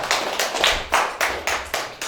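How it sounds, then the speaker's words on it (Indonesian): A small group in a school classroom gives a short round of applause, with about eight distinct claps coming at a steady, even rhythm, close and fairly loud with no speech over them. "tepuk tangan Bu Uci"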